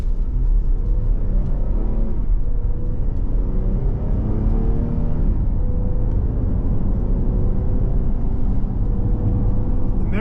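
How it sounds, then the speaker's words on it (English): A 2023 Dodge Durango GT Premium AWD with a brand-new V6 engine pulls away and accelerates steadily, its engine note climbing through several gear changes in a continuous loud, close rumble. "This V6 gets the vehicle up to speed. It's got a pretty good sound too for a V6 engine"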